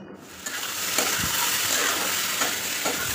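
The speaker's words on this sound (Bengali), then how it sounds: "সবজিগুলো বসিয়ে দিলাম" Vegetables sizzle and crackle steadily in a pan, a loud continuous fry close by with a few stirring scrapes and no talking.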